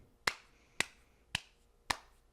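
Four sharp hand claps, slow and evenly spaced, ring out close and crisp in a quiet room with no talking.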